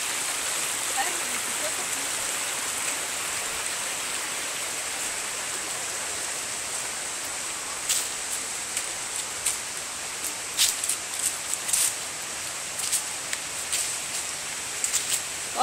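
Rushing water from a river or waterfall in Michoacán roars as a steady, even wash of noise, with a few sharp clicks and knocks breaking through in the second half.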